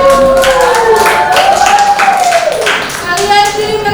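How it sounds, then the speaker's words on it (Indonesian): A classroom group claps in applause, a quick patter of many hands under a sustained tone and voices, loud and close throughout. "berikan aplaus yang sangat"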